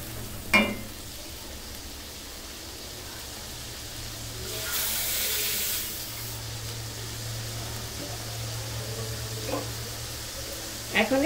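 Food cooking in a pan before cream is added, giving a low steady sizzle with faint stirring clicks and a brief louder hissing burst midway, close and fairly quiet throughout.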